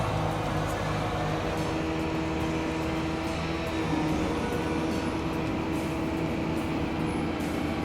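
A truck-mounted blower runs steadily at about 1,250 RPM, a continuous loud mechanical drone with a fixed hum that holds unchanged throughout, with no voices over it.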